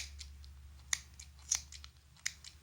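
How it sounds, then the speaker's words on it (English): Sharp scissors snip through yarn while trimming a crocheted pom-pom, giving three crisp, close cuts spaced about half a second apart over a low background hum. "You can use normal scissors as well."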